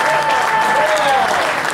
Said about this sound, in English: Big round of applause for Al Tompkins